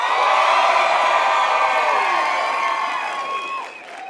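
Conference audience at a real estate summit cheering, whooping and clapping loudly as one, a dense burst of crowd noise that slowly fades toward the end.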